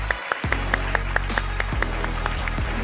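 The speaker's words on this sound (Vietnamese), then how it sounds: "Một tràng pháo tay thưa quý vị." On a TV comedy competition stage, an audience claps in a quick, even beat over a loud, sustained low musical backing, with crisp regularly spaced claps standing out above the music.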